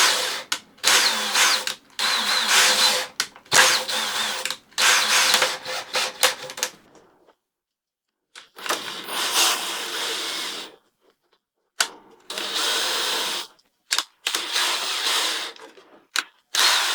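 A power drill bores a hole into timber in loud, close bursts of whining motor and grinding bit, several separate runs broken by short pauses and one longer silence, with no talking.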